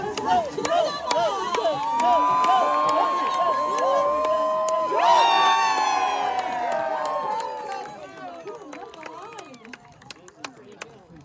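A crowd at a lumberjack show on Grouse Mountain cheers and whoops loudly, with voices shouting over one another. The noise fades toward the end, leaving a few scattered claps.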